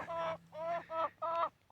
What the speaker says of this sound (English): where we have bitchy chickens